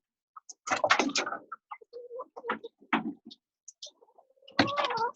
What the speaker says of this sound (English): These are quail.